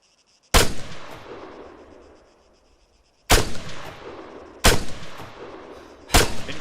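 Four sharp, loud rifle shots ring out in ArmA III combat, spaced irregularly with a lingering echo tail after each crack and no voices between them.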